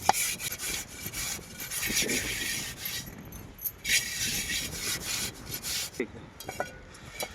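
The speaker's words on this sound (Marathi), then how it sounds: "पहिले बघा टोपाला माती लावून घ्यायची व्यवस्थित" Wet mud or clay is smeared by hand over the outside of a cooking pot before it goes on an outdoor fire for Maggi noodles: close, rough rubbing and scraping strokes that come in uneven bursts.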